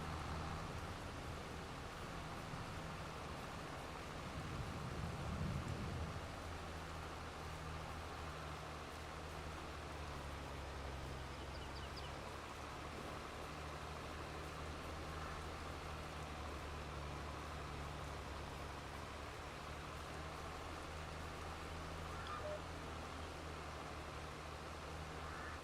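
Steady rain in Farming Simulator 22 hisses as an even, continuous wash of broadband noise, with a faint low hum underneath and no voices.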